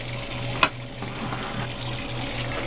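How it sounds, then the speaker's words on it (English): Tap water runs into a burnt pot being rinsed with hot water, a soft steady splash with one sharp clink near the start, under a low background hum from a fan. "but now we're gonna rinse this out first."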